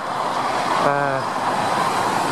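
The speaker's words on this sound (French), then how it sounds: "On a beaucoup de voitures qui passent." Steady roar of cars passing on a street lined with plane trees beside community garden plots, with a brief passing vehicle swelling then fading over constant traffic noise outdoors.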